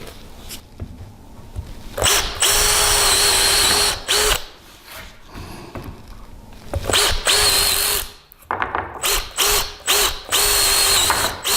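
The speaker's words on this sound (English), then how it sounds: "Gotta do a 1/4 inch hole all the way through because we put T-nuts on the other side" A power drill bores a quarter-inch hole all the way through wood for a Murphy bed frame, its loud whining motor running in several long, close bursts separated by brief pauses and handling clicks.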